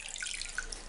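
Water splashing and trickling in a small sink basin while dyed synthetic hair is rinsed, soft close dripping and sloshing with scattered droplet plinks, no voices.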